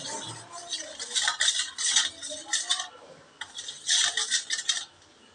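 Semolina and water are being mixed for veg suji, with a spoon scraping and clinking rapidly against a metal pan in bursts, interrupted by a short pause. The sound is close and crisp, with no voices.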